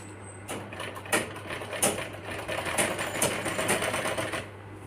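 A sewing machine runs a fast, rattling stitch along the side seams of a small child's shirt, close and continuous for several seconds over a low steady hum, without speech.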